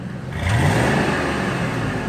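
A car engine with a head gasket fault, treated with a sealant repair, revs up briefly and holds a steady, loud whirring roar for a couple of seconds with no voices.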